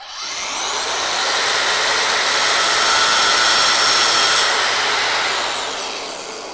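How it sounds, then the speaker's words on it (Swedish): A Festool dust extractor vacuum runs with a loud, steady roar, starting right away, holding level for several seconds, then tapering off near the end, with no talking. "Som ni hörde så gick dammsugaren ändå"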